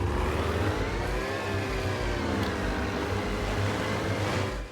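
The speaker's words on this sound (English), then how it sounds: "Don't know if that's working with a loud-ass boat." Loud boat engine drone in the survival game DayZ, a steady close mid-pitched roar that holds throughout with slight pitch shifts, no voices.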